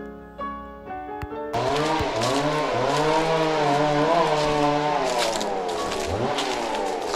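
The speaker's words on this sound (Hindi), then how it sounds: "यहाँ पर चलते चलते हमें बाइक का साउंड सुनाई दे रहा है।" A motorbike engine drones and revs continuously in Tumjang Valley, its pitch rising and falling as it works, fairly close, with no one talking.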